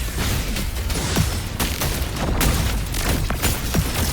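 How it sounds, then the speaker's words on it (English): Grenades bursting in rapid succession during a Wuthering Waves battle: a loud, dense string of booms and sharp blasts with hardly any pause between them. "More grenades!"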